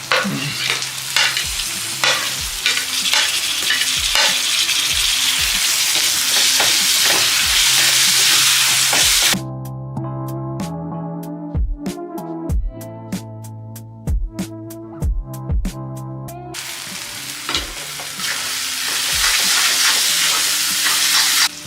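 Tomatoes tipped into a hot frying pan for a boneless chicken gravy burst into loud, steady sizzling, with a quieter stretch in the middle where spoon scrapes and clinks stand out before the full frying hiss returns.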